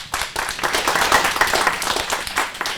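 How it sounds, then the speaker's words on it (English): Audience applause following a talk, dense steady clapping from a crowd that fills the room continuously, fairly loud and close, with a brief dip near the start before it swells again. "Hopefully you can hear the applause from your end."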